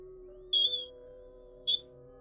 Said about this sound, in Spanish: el silbido volvió a sonar.